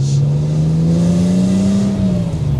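A BMW E36 M3 engine drones loud and steady from inside the car, rising gently in pitch as it pulls through a gear.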